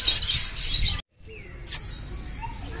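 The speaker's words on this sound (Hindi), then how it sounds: "वाकई आवाज है तोते की यार" A parrot at a zoo lets out harsh, shrill calls close by, several chirps and squawks in quick succession, briefly cut off by a short gap.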